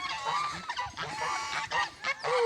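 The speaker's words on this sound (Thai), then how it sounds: "เสียงห่านได้พ่อแม่พี่น้องอันนี้" Several loud, harsh goose honks in quick succession, close by and overlapping, with no talking.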